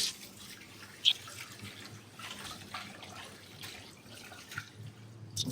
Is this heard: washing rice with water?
yes